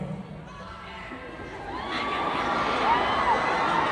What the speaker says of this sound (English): when my hand is over your section, I want you to scream